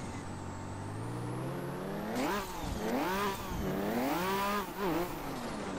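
Engine revving hard in a car drifting along city streets in Assetto Corsa, with rising and falling pitch sweeps as the throttle is blipped, loud and continuous with no talk.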